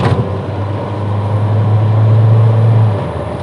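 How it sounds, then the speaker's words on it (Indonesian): A 2008 Nissan Grand Livina 1.5 XV engine accelerates on an open road from about 40 km/h, its steady low drone rising slightly in strength over a few seconds, heard from inside the cabin without talk. "Saya jalan di 40, RPM nya nggak sampai 2000, kita gas."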